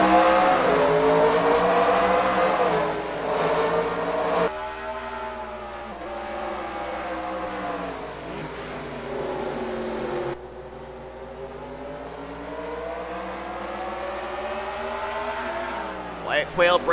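Race car engines in a stock-car racing game at Sonoma road course roar and climb through gears at a green-flag start, loud and sustained with shifting pitch sweeps and a brief gear change.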